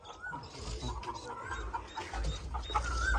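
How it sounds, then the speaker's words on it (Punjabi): A hen at a home keeping pigeons, dogs and roosters, clucking in short repeated calls near the microphone amid other bird chatter, quiet overall. "ਮੁਰਗੀ ਦੇਖ ਕਿੰਨਾ ਉਹ ਕਰਦੀ ਆ ਜੀ"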